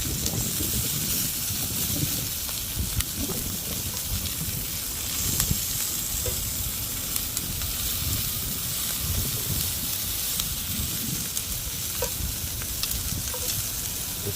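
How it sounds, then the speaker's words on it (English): Lamb chops searing in a hot pan, a steady loud sizzle and crackle of fat spitting that holds at an even level throughout, close by with no talking. "That's a nice little sear on that one."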